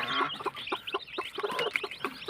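A clutch of newly hatched chicks cheeping close by, a rapid stream of overlapping high peeps with a few lower clucking notes underneath, continuous throughout.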